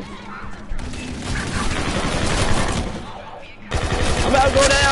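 Rapid bursts of video game gunfire, shotgun and automatic weapons in a PS4 zombie shooter, crackle densely and loud across the whole stretch, briefly dropping out before resuming, with player chatter mixed underneath.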